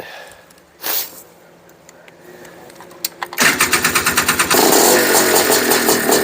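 A Honda Odyssey FL350 buggy engine is cranked with a few short pulls, then fires into a rapid, loud, rattling putter that settles into a steady clattering run close by.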